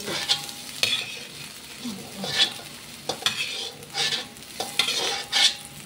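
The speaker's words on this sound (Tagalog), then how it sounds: "Iprito naman natin yung ibang gulay." Vegetables for pakbet fry in a pan with steady sizzling, broken up by sharp scraping stirs and utensil knocks against the metal at irregular intervals, close and moderately loud with no talking.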